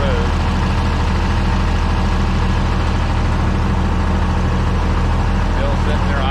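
An International Harvester 1026 tractor engine idles steadily outdoors, a low, even rumble that runs the whole time at close range with no change in pace.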